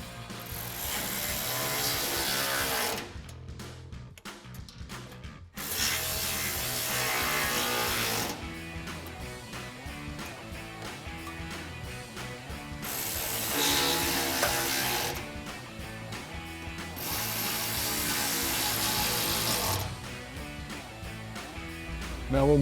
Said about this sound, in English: we'll just tighten those all up with our 10mm socket